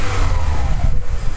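A VW Polo Mk5 1.4 MPI/FSI engine fitted with a performance air filter revs close by, giving a loud, deep, rumbling drone that rises and falls briefly.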